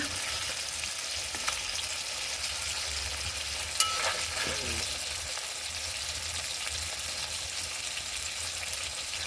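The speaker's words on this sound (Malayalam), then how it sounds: "ഇനി അയില വറക്കുവാണ് കേട്ടോ അവിടെ തന്നെ വെച്ചിട്ട്." Mackerel pieces frying in a pan, giving a steady, dense sizzle that holds evenly throughout, with a couple of faint clinks from a utensil partway through.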